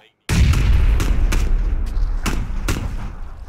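Booming gunshots in a shooter video game, a series of heavy reports spaced through the clip, loud and close with a rumbling tail, no talking.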